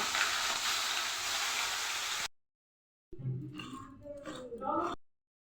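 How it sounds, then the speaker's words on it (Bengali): Turmeric-and-salt-coated shrimp frying in hot oil, a steady loud sizzle for about two seconds, then after a pause a softer crackle with clatter and movement, as if stirred or turned in the pan. "তেল চাপিয়ে নিয়েছি, এবার চিংড়ি মাছটা লবণ হলুদ মাখিয়ে ভেজে নেব।"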